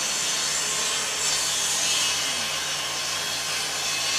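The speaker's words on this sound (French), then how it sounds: "La scie est plus forte que moi." A hand saw cutting through wood, a steady continuous rasping scrape that runs unbroken for about four seconds at moderate loudness, with no talk over it.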